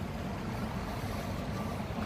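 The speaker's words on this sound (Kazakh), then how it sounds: "машиналар трассада жүрүп атышат." Steady, broad roar of passing traffic with a continuous engine rumble, no pauses and no voices.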